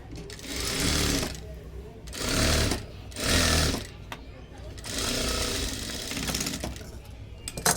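A home sewing machine runs in several loud bursts, stopping and starting, while stitching a folded blouse sleeve with a straight stitch; someone talks between the runs.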